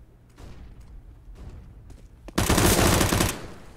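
Gunfire in the shooter game CS:GO during an online esports tournament match: after low, muffled in-game sounds, a loud, dense burst of rapid automatic fire lasts about a second, then cuts off.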